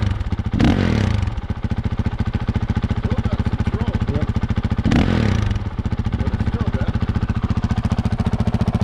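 Honda CRF450L running through a modified Yoshimura RS4 quiet exhaust, a close, steady thumping idle broken by two short throttle blips that swell louder.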